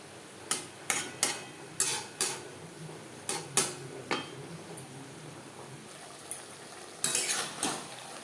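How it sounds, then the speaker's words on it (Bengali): Snake gourd cooking with ground coconut in a pan over high to medium flame, stirred with a utensil that gives a string of sharp metallic clinks and scrapes against the pan, irregular and close, with quiet gaps between. "হাই টু মিডিয়াম ফ্লেমে 3-4 মিনিট চিচিঙ্গার সাথে নাড়াচাড়া করে নেব।"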